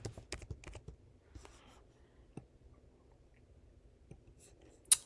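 A password typed on a computer keyboard: scattered soft key taps, a quick flurry at first, then sparse presses, ending with one sharper clack.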